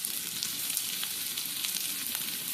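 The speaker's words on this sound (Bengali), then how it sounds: "ভালোভাবে নেড়ে ছেড়ে ভেজে নেওয়া হচ্ছে।" Onion, chopped beans and carrot sizzle steadily in hot oil while being stirred, a close, continuous bright frying hiss with faint scraping and no voices.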